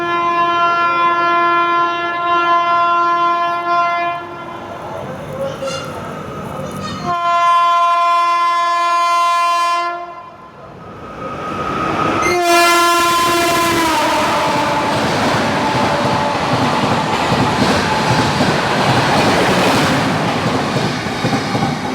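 Kutch Superfast express train passing on a line in Gujarat, with loud sustained horn blasts, then a roaring rush of wagons and rhythmic clatter close by.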